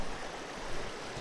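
Heavily oxygenated water rushes through a small trout creek in a steady, faint broadband wash with no breaks or voices.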